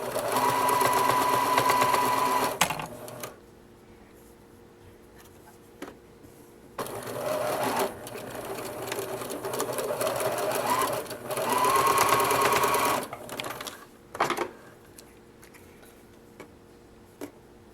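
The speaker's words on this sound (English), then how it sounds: "do it on my serger" Serger overlock machine stitching seams on child boxer briefs, running in several fast whirring bursts with rapid ticking needle rhythm, separated by short quiet pauses, close and clear with no speech.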